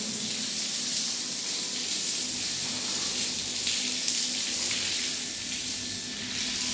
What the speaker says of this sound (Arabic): الشغل لازم كله يترش بالمية زي كده.